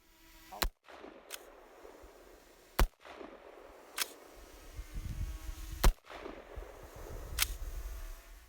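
An AR rifle firing at an outdoor shooting range, with several sharp, loud single shots spaced irregularly over a low background rumble.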